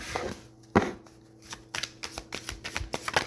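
Tarot cards are shuffled up close in quick riffling bursts, a sharp snap near the start followed by a run of rapid, rhythmic flicks.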